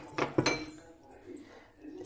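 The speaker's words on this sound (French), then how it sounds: "Je vais prendre alors une cuillère de farine, un peu de jus et je mélange" A spoon clinks against a pot while stirring flour and juice into the sauce of a home-cooked beef daube, a few quick metallic taps near the start followed by softer scraping, faint and close.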